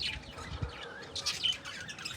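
Pigeons kept in paired nest boxes give soft, brief chirping calls, a few faint notes spread across a short stretch with no voices.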